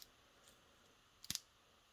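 The wing joint of an HMM Zoids Great Saber plastic model gives a quiet, sharp double click as it is articulated, plus a few faint ticks just before.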